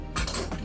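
Metal fork and spoon clink against each other as they are packed into a lunch bag, a few brief close jingling taps in a quiet room.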